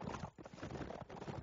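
Rapid clip-clopping hooves of galloping horses in a strategy video game, a quick rhythmic patter of hoofbeats at moderate volume with no voices over it.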